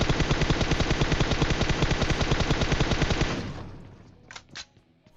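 Automatic weapons fire in a PUBG Mobile firefight: a loud, close, unbroken burst of rapid shots for about three seconds, then a fading tail with a couple of faint, distant cracks.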